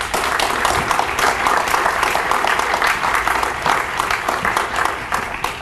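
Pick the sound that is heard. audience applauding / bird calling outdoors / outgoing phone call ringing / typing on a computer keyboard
audience applauding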